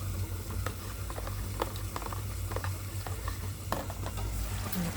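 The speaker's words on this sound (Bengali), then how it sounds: "পাশে চিকেনটা ফ্রাই হচ্ছে হালকা করে, কনস্ট্যান্ট নাড়িয়ে যেতে হবে" Chicken frying lightly in a pan and stirred constantly, a steady close sizzle with scattered scraping clicks of a utensil against the pan, no voices.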